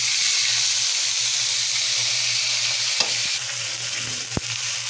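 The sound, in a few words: onion paste frying in oil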